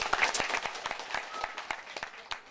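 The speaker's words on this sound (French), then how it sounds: "applaudissez-vous" A crowd at a French-speaking campaign rally applauds itself, a fairly quiet, sparse patter of individual claps spread through the room over a couple of seconds.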